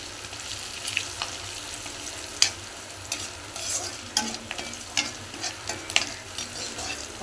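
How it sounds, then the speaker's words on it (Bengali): A spice tempering with Kashmiri chilli powder fries in hot oil, a steady close sizzle under frequent clicking and scraping stirs of a spoon in an uneven rhythm. "ফোড়নটাকে ভালো করে ভেজে নেব।"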